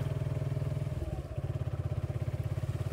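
Motorcycle ridden along a waterlogged road, a close, steady low engine thump with even rapid pulses and a brief dip in the middle, no talk.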